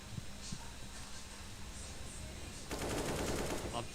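Close-range Desert Eagle pistol fire in a Counter-Strike match, a dense rattling burst of gunfire starting near the end over steady game ambience, with faint earlier shots.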